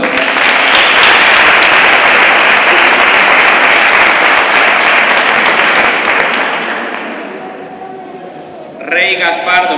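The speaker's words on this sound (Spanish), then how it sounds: "Fuerte aplauso." Loud, sustained applause from a crowd at a Three Kings coronation ceremony in El Trobal, dense clapping that slowly fades before a voice starts speaking over a loudspeaker.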